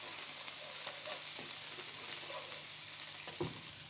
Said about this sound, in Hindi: लहसुन अदरक मैंने 2 से 3 मिनट भून लिए।